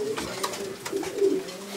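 Racing pigeons coo steadily inside a pigeon loft, with soft, close, low throaty calls that carry through the whole short stretch and no voices over them.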